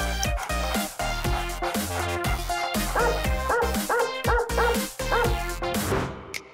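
A person imitates a dog with a rapid series of barks, yips and whimpers, close and loud in an energetic rhythm.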